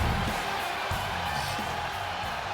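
A dense, roaring arena crowd cheers continuously in the WWE 2K26 wrestling game as CM Punk comes out, a broad wash of noise with a commentator's voice running over it.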